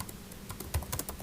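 Light keystrokes on a computer keyboard, a quick irregular patter of soft clicks heard close up with no talking.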